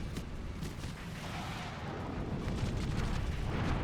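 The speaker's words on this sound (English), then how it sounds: "I'm just not used to listening to like the sounds of gunfire in a game like this." Gunfire from the action game Drakengard 2 rumbles as a dense, continuous barrage of booms and blasts, fairly quiet and steady throughout, with no voices over it.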